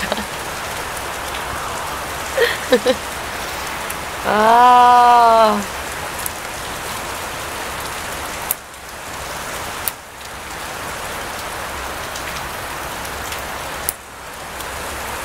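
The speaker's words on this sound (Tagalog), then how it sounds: "ulan lang yan" Steady rain falls outside, a constant hiss under everything, with a brief voice calling out and a short sung tone partway through.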